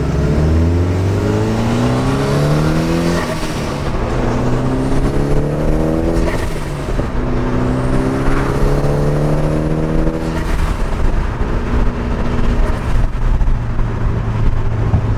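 A Mitsubishi Evo with a fresh base map tune pulls hard through repeated gear changes, its engine note climbing in rising sweeps, dipping at each shift and climbing again, loud and close with no talking.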